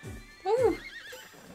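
A horse in the video game Miitopia gives a short, bright whinny, close and clear, as a voice exclaims over it.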